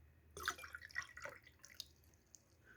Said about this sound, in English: now I take another cup of water and fill this glass